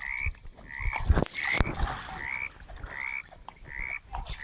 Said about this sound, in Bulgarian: О, тия жаби ме побудяват.